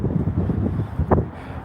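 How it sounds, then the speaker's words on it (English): Low, steady wind rumble buffets the microphone throughout on a cold Las Vegas night, with a brief louder gust swelling near the end. "It's been cold and windy."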